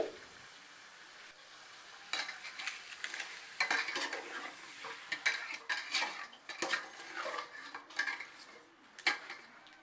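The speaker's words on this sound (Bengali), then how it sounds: "তারপরে তেলের সঙ্গে মাটনের সঙ্গে মশলাটাকে ভালো করে কষিয়ে নেওয়া" Mutton with ground chilli, salt, Kashmiri red chilli powder and ginger-garlic paste being stirred in oil in a pot for biryani, a spoon scraping and clinking against metal in irregular bursts over a faint sizzle.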